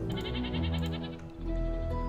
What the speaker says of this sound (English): Oh, I got a goat.